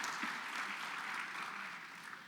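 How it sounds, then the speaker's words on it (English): A steady wash of applause from a crowd at a faculty panel session, sustained and even throughout, with no talking over it. "A big round of applause"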